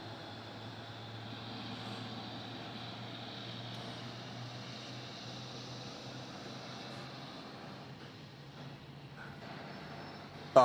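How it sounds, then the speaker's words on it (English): Qantas flight 637 from Brisbane coming in to land at Melbourne Airport, a steady broad jet roar with a low hum holding evenly at moderate distance throughout, ending in a brief sharp knock. "Qantas 637 is what you're watching coming in there from Brisbane"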